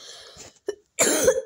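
A woman coughs close by: a short cough, a brief pause, then a louder, harsher cough with some throat clearing.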